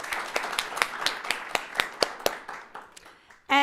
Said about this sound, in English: I would love us to all give Barney a round of applause for stepping in as our MC today.